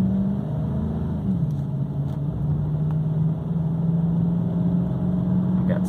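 Steady engine drone and road rumble from inside a 2008 GMC Sierra 1500 Z71 4x4 pickup truck on a test drive, a continuous low hum with a slight pitch change early on, close and fairly loud throughout.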